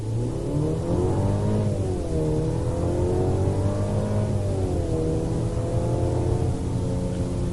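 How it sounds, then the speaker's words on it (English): 2023 Audi Q5 with a 2-liter turbocharged four-cylinder accelerating hard, a steady engine drone rising and dipping in pitch with turbo whine on top, heard from inside the cabin and alone for several seconds. "You can also hear pretty pronounced the turbo sound"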